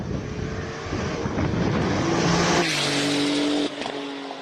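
Porsche 996 Turbo on a hillclimb run, its engine roaring loudly as it passes close by, with a rising note, brief tire squeal and an abrupt drop as the car pulls away.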